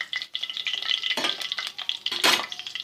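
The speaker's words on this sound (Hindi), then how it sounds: "डाल दिया है 1 खाने का चम्मच लहसुन अदरक का पेस्ट, 1 चाय का चम्मच तकरीबन मैंने ज़ीरा डाला है यहाँ पर" Ginger garlic paste and cumin seeds frying in hot ghee after okra has been removed, a dense steady sizzle with a spoon stirring and scraping the pan, loudest in a brief burst near the end.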